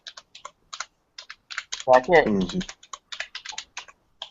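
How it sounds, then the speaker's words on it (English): Rapid clicking keystrokes on a computer keyboard patter irregularly in quick bursts, fairly faint, while a voice briefly speaks over the typing partway through. "I can hear Haplo just typing away."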